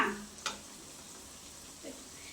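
Onions sauté with masala in a pan, making a faint, steady low sizzle with a soft utensil tap near the start and another light scrape later.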